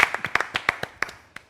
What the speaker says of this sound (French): Ça mérite d'être applaudi.